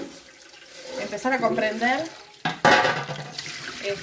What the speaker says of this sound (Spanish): estoy lavando los platos